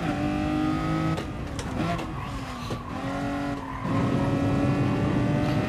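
Ferrari 250 GT Berlinetta engine in the racing game GT Sport revving hard with a sustained, steady drone, broken by a few shifts and a brief skid near the middle before climbing loud again.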